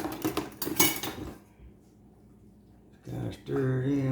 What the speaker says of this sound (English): Put the catfish in. And then chop it on a little bit so it's kind of chopped up and mushy.